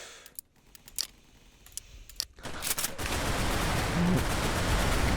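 Single shots crack in a video game at a quick, uneven pace, sharp and close for a couple of seconds, before a loud, steady broadband roar takes over.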